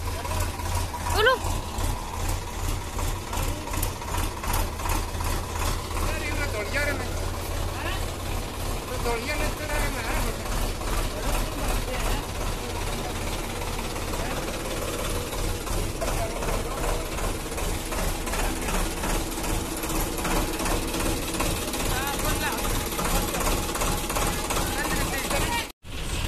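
A farm tractor that has sat parked in the grass for several days runs with a steady, rhythmic chugging engine throughout, loud and close, continuous for the whole stretch until a brief drop at the end.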